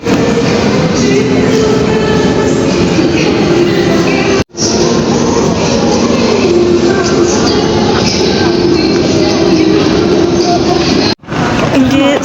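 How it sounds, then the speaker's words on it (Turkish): A metro train carries passengers along, its steady broadband rumble and rattling wheels filling the car continuously, with two very brief dropouts and some faint voices mixed into the noise. "Metroya mindik və metrodan düşdük."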